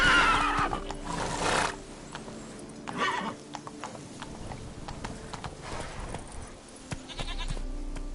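A horse in The Witcher 3: Blood and Wine whinnies loudly near the start, with hoof clip-clops, snorts and scattered game sounds following over several seconds.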